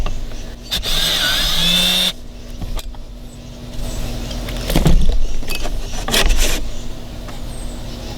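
A power drill drives a screw into the backrest of a classic Boston Whaler Montauk boat, a loud whirring burst at the start followed by several shorter, fainter mechanical bursts against steady background noise.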